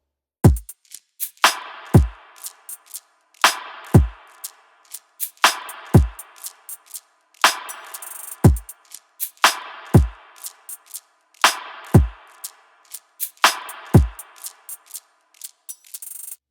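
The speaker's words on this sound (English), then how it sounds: "Altogether, the drums sound like this, soloed" A soloed electronic drum track from a mix plays a simple, sparse rhythm: deep pitch-dropping kicks every two seconds with crisp claps, snappy hits and light percussion between them, clean and punchy with no other instruments.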